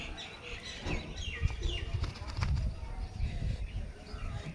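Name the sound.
Punjabi Malbai pigeons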